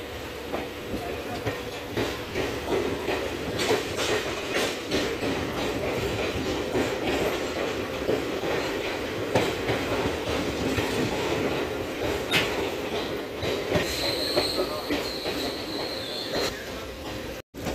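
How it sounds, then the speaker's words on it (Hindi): A passenger train departing a station rolls steadily along the rails with continuous rumbling and faint clickety-clack, a brief high squeal near the end, no voices. "तो दोस्तों चल चुकी है हमारी ट्रेन बलुआना रेलवे स्टेशन से।"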